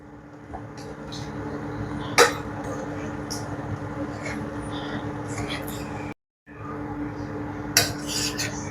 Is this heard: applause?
no